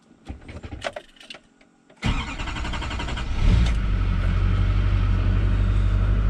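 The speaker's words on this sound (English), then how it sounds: "let's give this a crank and see if we make any fuel pressure" Duramax LB7 diesel in a Silverado 3500HD cranks briefly with clicks and whirring, then catches at about two seconds and settles into a loud, steady, close diesel idle rumble.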